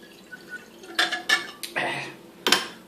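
Raspberry and apple cider poured into a glass: a few close clinks of glass and a short liquid splash, then a sharper clink near the end, fairly quiet overall.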